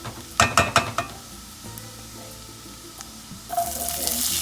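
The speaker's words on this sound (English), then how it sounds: "The pan's pretty hot. We're gonna mash and fry." In a hot pan for breakfast tostadas, a few quick utensil clatters are followed by a quieter pause. A rising, close sizzle of food frying comes in at the end.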